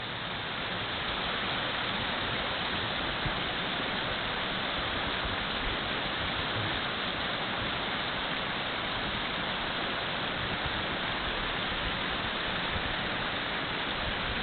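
A mountain stream high above Skagway in backcountry Alaska rushes steadily, a dense, even wash of flowing water that stays close and constant throughout with no voices.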